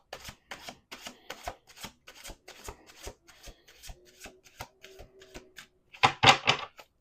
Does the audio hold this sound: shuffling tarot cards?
yes